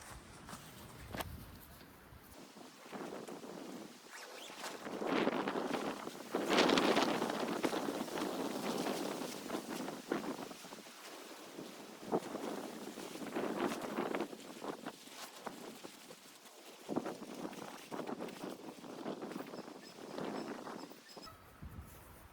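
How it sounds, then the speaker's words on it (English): Wind gusts buffet the microphone in rising and falling waves beside an opened temporary shed, with faint rustling and knocking underneath. "Wind is really starting to gust."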